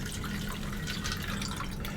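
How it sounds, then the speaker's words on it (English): A green St. Patrick's Day cocktail is poured into a Collins glass, a steady close liquid splash and trickle that fills the whole moment without speech. "you are just going to go ahead and pour that right into your Collins glass"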